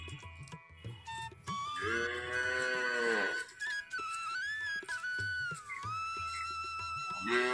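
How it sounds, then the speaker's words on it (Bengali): A cow being led down to bathe moos loudly and at length, with long drawn-out lowing calls close by over quiet rural surroundings. "তো এই যে গরুটা স্নান করাতে নিয়ে নেমে যাচ্ছে।"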